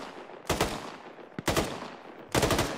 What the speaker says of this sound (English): They're shooting down into the valley.